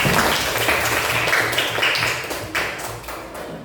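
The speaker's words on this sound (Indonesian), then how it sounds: "Beri tepuk tangan untuk kita semua" A classroom of students applauds together, a dense, steady patter of clapping that stays loud for a few seconds and tapers slightly near the end, with no talk over it.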